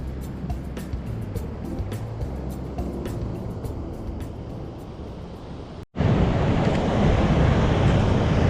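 Wind buffets the microphone over a steady roar of surf at Shelly Beach in Albany, WA, with the noise briefly cutting out before returning louder and rougher.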